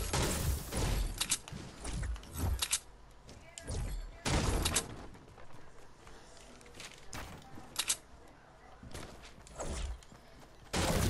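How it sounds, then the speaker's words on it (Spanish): Bursts of gunfire in Fortnite, loud sharp volleys and single shots recurring irregularly throughout, mixed with mechanical clicks and footsteps, with no talking. "Disparan."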